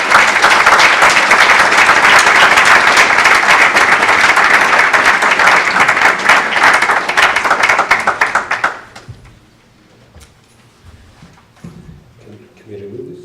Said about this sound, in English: let us give a round of applause to Olav for this